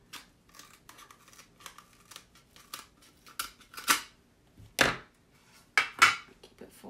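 Scissors snipping across the bottom of a folded craft tassel, a series of quiet close snips and clicks building to a few sharper, louder cuts near the end, no voices.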